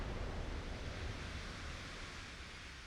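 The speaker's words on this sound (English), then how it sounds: "Big spouts of water up into the air." Broad, steady rush of water from shell splashes throwing spouts into the air in the naval battle game Ultimate Admiral: Dreadnoughts, a continuous surf-like roar that eases slightly over a few seconds with no talking.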